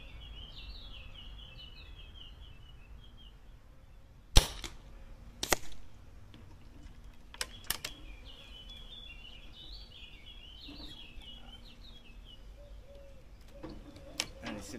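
An air rifle fires H&N pellets at a cardboard target outdoors, with a few sharp cracks spaced seconds apart against a steady backdrop of birdsong and chirping insects.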